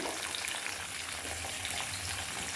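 Onions, tomatoes, turkey berries and curry leaves sauté in oil with an even, close, continuous sizzle and only faint stirring underneath; nobody talks.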